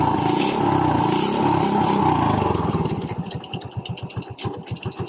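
A carbureted Yamaha Vega 115 motorcycle engine that stalls when the gear pedal is pressed runs close by, first a smooth steady drone, then settling into a slower, lumpy putter as it idles.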